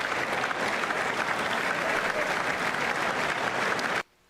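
Steady, full-bodied clapping fills a large hall during the 2026 State of the Union address, continuing evenly before cutting off abruptly into near silence at the end.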